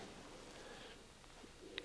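Soft, low pigeon cooing, faint and somewhat distant, over a quiet background hum.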